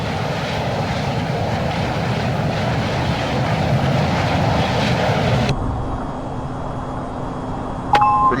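F-22A jet engine taxiing in a flight simulator game, a loud steady roaring whine that drops abruptly to a lower hum midway, ending with a brief electronic beep.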